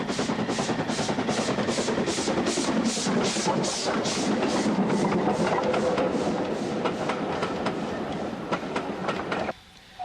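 An ex-GWR pannier tank steam locomotive, number 5775, departs Oakworth, chuffing in a rapid, regular rhythm, loud and close, the beats blending into a continuous rolling roar before fading out.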